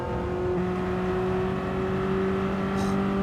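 A race car engine in Gran Turismo holds a steady, loud mechanical drone with a strong tonal hum throughout, sustained at high revs without any voices.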